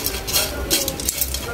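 Dried dulong fish dry-frying in a hot pan with no oil, a steady close crackling hiss with light scraping stirs throughout.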